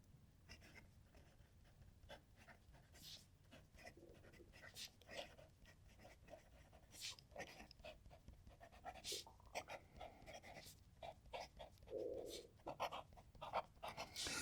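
A fountain pen with a 14 karat gold nib scratches faintly across paper in short, irregular strokes, quiet and close, with soft pauses between words.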